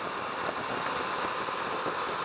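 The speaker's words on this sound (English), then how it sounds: "It's not very, exhaust note isn't very loud" A Husqvarna Svartpilen 401 motorcycle idles with a steady, low rumble throughout, a smooth mechanical drone with mild vibration, a fairly quiet exhaust note, and no speech.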